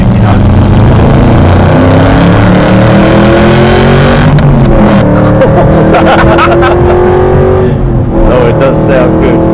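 Tuned Aston Martin V8 Vantage CTR engine accelerating from inside the car, a loud, continuous rising growl with gear changes, and people talking over it.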